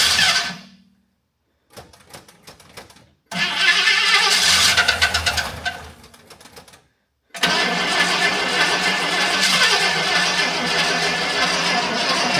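An old car engine cranks and catches, something slapping around loudly as it fires, then drops into a rough, steady idle after a brief pause, with a voice heard near the start.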